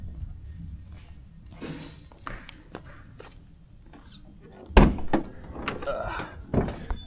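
The hood of a 1991 Cadillac Brougham is popped open. A quiet rustle is followed by a solid close thunk and a few smaller knocks and rattles.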